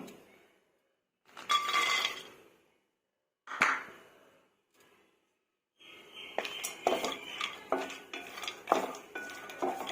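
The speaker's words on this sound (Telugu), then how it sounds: "కొంచెం వేడెక్కిన తర్వాత ఫస్ట్ జీడిపప్పు ఫ్రై చేసుకుంటున్నానండి నేను" Cashews frying in ghee in a pan for kheer semiya, heard as intermittent clinks and scrapes of a utensil against the pan in short bursts, then a denser stretch of stirring clatter, close and fairly quiet.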